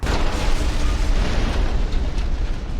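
A loud, rumbling explosion from the Fallout: The Frontier game fills the moment, a heavy sustained boom with deep low-end roar lasting a few seconds, no talking.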